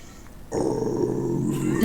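A voice imitates a death metal growl, a low, raspy sustained roar starting abruptly and holding steady for over a second, close and fairly loud.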